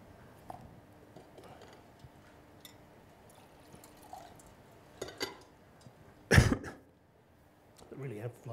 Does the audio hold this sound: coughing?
yes